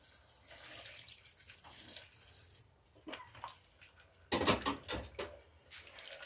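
Raisins and cranberries being rinsed in a bowl with warm water, with quiet splashing and trickling that turns into louder sloshing and clinking bursts near the end.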